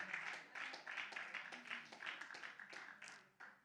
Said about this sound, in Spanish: Aleluya, un aplauso al Señor.